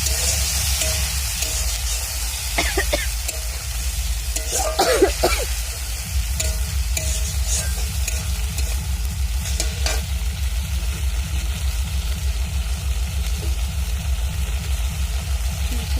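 Ginger, cumin, dried chilli and garlic paste fry and sizzle in a pan, with steady stirring scrapes and a louder burst of clatter partway through, all close and without talk.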